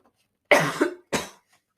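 Two harsh coughs from smoking cannabis, close to the mic, a longer rough one followed by a shorter burst, then silence.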